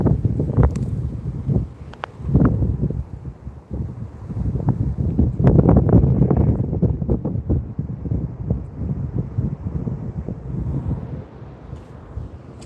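Strong, gusty wind buffets the microphone outdoors during a live fishing outing, a continuous low roaring rumble that swells and eases over the whole stretch, with no clear talk.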